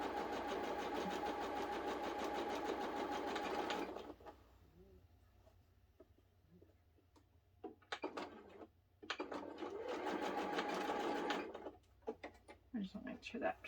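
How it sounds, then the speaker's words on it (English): A sewing machine stitches a straight quilting seam, a fast steady whir running alone for about four seconds, then quiet handling and short clicks, followed by another sustained burst of stitching and a few brief starts. "all we're going to do is sew a straight line all the way down"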